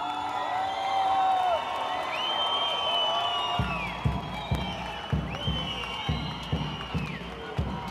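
Large crowd at an Iranian rally in Melbourne after rain, a broad continuous roar of many voices with whistles and cheering, then rhythmic clapping or chanting beats pulsing through the second half.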